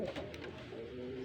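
Racing pigeons give soft, low, throaty coos in a loft, faint and continuous with gentle overlapping calls.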